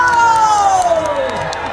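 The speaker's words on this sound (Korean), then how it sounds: "박수와 함성." A festival crowd at an outdoor lantern festival celebration performance cheers loudly and steadily, a dense wash of shouts and whoops with scattered clapping, close and continuous throughout.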